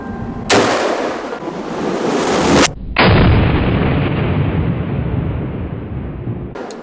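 An AR-15 pistol fires two sharp, loud shots outdoors, each followed by a long rumbling echo that fades slowly, with a faint click near the end and no talking.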